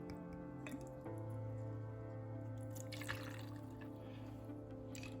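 Woodford whiskey is poured for a whiskey sour, a faint close trickle and drip of liquid into a glass over a quiet humming room.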